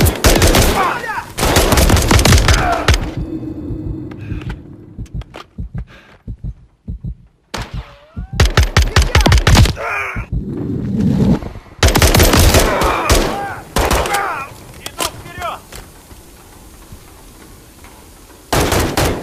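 Machine gun fire and explosions in the Call of Duty Modern Warfare III campaign, loud rapid bursts in several clusters separated by quieter stretches, with shouted battlefield voices between the volleys.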